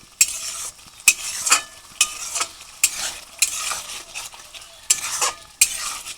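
Ground green chili masala for a prawn malai curry being sautéed in a pan, with a rhythmic series of loud spatula scrapes against the pan over a low sizzle, no voices.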